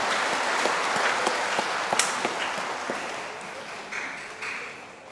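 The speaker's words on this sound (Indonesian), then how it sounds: "Kita beri tepuk tangan sekali lagi untuk para suster kita." A church congregation claps for the nuns at Sunday Mass, a steady, moderately loud patter of many hands with a few sharper individual claps, continuing through the whole stretch.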